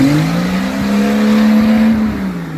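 A 1956 Ford F100 pickup with its 223 engine and three-on-the-tree gearbox, no posi rear end, spins donuts in snow, its engine droning loudly and steadily, rising slightly in pitch then easing off near the end.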